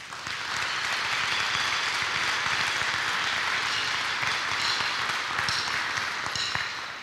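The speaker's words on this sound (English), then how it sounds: "That deserves a round of applause." Audience applause at a school campus ribbon cutting ceremony, a steady, dense wash of many hands clapping that swells in and holds for about seven seconds, with no talking over it.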